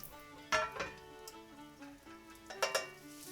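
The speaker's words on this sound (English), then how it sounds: "Let's put it in the frying pan." Mint slices frying in melted butter in a frying pan give a soft, steady sizzle, with a few louder scrapes and clinks as the pan is stirred.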